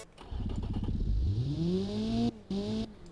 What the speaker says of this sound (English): So we're just going to listen to our nice little shitbox of an engine.